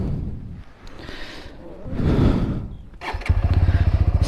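A 2021 BS6 TVS Apache RTR 200 4V motorcycle engine on a highway ride, revving and rising through gears, ending in a close, steady pulsing engine note under wind noise.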